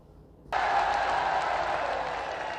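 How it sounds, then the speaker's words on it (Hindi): Applause bursts in abruptly after a short quiet stretch, a dense, loud wash of clapping from a large audience at a political speech that holds steady to the end. "अब तालियां भी सुन लेते हैं।"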